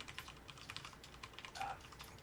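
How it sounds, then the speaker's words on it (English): Fingers tapping out a code on a computer keyboard, a quick run of light, irregular key clicks at close range with no talking. "Typing it in now."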